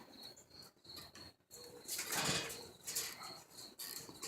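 Pigeons taking off and flying from a loft, with bursts of wing flapping, a loud rushing flutter in the middle, and soft cooing and chirps between, faint to moderate with no talk.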